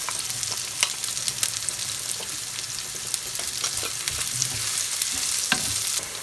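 Onions and curry leaves frying in a pan for a crab curry, a loud, busy sizzle with crackles and intermittent scraping of a spoon against the pan, close and continuous without speech.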